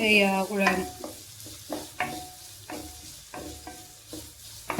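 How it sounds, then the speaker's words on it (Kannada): Curry leaves and ginger garlic paste frying in oil for Ramanagara-style puri sagu, a bright sizzle under repeated scraping strokes of a spoon stirring the pan, close and rhythmic. "ಇದು ಸ್ವಲ್ಪ ಎಣ್ಣೆಲಿ ಫ್ರೈ ಆಗಲಿ"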